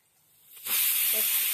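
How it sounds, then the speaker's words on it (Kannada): A pressure cooker whistle on a stove, cooking green gram, rises from quiet into a loud, steady, close steam hiss that holds to the end. "3ನೇ ವಿಸಿಲ್ ಆಯಿತು."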